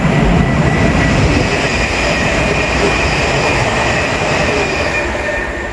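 A train rumbles loudly and steadily through Queen's Park station in London, its wheels grinding and squealing on the rails, close by and continuous with no talk.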